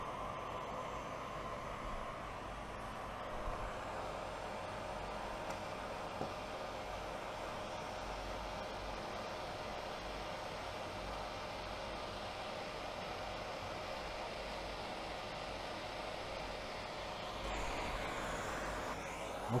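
A furnace heating a casting mold for pouring molten gold gives a steady, loud roaring hiss throughout, like a blower or burner running continuously, with no voices over it.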